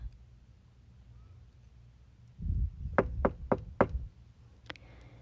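Five sharp knocks on a door in a quick, slightly uneven sequence, with a single fainter knock after a brief pause, in an otherwise quiet room.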